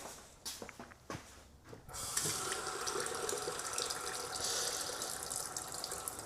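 Tap water running into a sink for zero-sugar brownie batter, starting after a few knocks and clatters and then streaming steadily and fairly loud, alone for several seconds.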